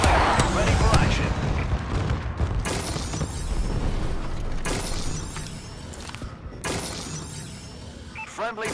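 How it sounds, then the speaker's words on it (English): Bombing run in Call of Duty: Advanced Warfare, loud rolling blasts and shattering impacts pounding in repeated waves, with game voice callouts mixed in over the barrage. "Friendly bombing run clearing the way."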